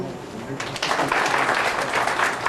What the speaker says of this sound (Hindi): हम सबकी तरफ से इसका मतलब आपकी तालियां